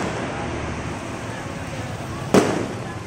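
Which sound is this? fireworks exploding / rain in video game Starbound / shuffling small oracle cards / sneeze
fireworks exploding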